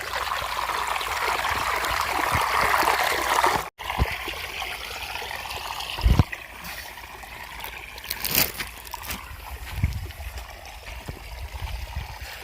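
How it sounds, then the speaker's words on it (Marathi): Irrigation water flows through a farm field with a steady trickling rush, close to the microphone, broken by a few brief splashes and soft thumps. "हे बघा हा आहे नॅचरल आवाज पाण्याचा."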